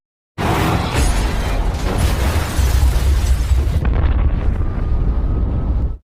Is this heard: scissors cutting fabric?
no